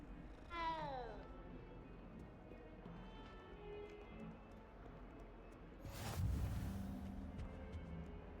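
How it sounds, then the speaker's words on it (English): A cat gives a short meow, followed by a quiet stretch of low room noise with a brief louder rustle later on. "Ooh, a kitty."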